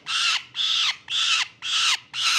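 A falcon held in hand for banding gives five loud, rasping, evenly spaced alarm cries, very close and clear.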